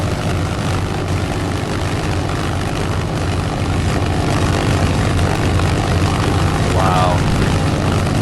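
A Mitsubishi A6M5 Zero's propeller engine roars loud and steady through a three-point, no-flaps takeoff, a dense, unbroken drone with a deep throbbing low end and a brief faint chirp near the end.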